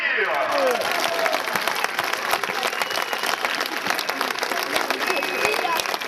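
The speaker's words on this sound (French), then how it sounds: "Et on peut les applaudir." An audience applauds in a dense, continuous wash of many hands clapping that holds steady for several seconds without a break.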